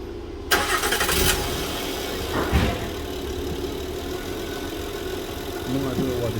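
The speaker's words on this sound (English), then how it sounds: "I'm gonna let the car run." A 2012-2015 Honda Pilot engine cranks briefly and catches, then settles into a steady, loud idle that runs to the end, close by.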